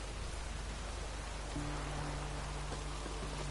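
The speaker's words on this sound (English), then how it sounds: "Looks like rain." Rain falls steadily in The Witcher 3: Hearts of Stone, an even, dense patter with a low ambient hum under it, continuous and moderately quiet with no voices.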